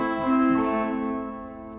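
A sampled French organ sounds a sustained chord rich in steady harmonics, then the notes release into a soft natural reverb tail that lingers and fades gradually.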